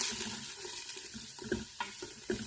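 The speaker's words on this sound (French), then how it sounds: "Je vais rajouter donc mes oignons. Voilà. Je vais mélanger un peu." Onions frying in a pot of homemade vegetable soup, a soft steady sizzle with intermittent scraping knocks of a spoon stirring, close and quiet.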